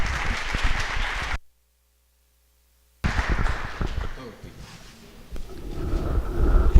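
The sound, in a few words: audience applauding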